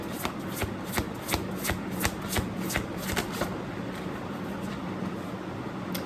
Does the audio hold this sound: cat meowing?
no